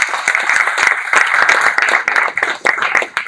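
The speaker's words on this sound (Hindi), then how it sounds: "जोरदार तालियां इनके लिए." An audience at a masterclass event applauds loudly and steadily, a dense wash of many hands clapping close by.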